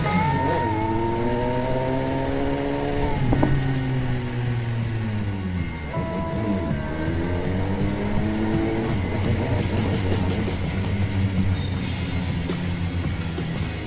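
BMW S1000R motorcycle engine droning steadily throughout, with clear rising and falling harmonic sweeps as the rider shifts and eases off for a tight curve, loud and close with strong wind noise.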